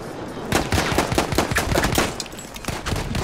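Gunfire in the Battlefield 1 multiplayer shooter rattles in rapid, dense bursts of loud shots that continue almost without pause.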